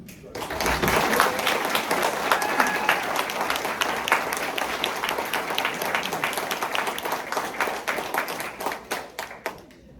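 An audience at a League of Women Voters mayoral forum in the San Juan Islands applauds the candidates, rising quickly into sustained, fairly close clapping before tapering off near the end.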